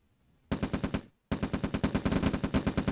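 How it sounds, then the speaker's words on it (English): Rapid bursts of machine-gun fire from units in the real-time strategy game Red Alert (OpenRA), loud and close, a half-second burst, a brief pause, then sustained rhythmic automatic shots continuing to the end, with no talking. "He got 2 shots off before my guy stopped."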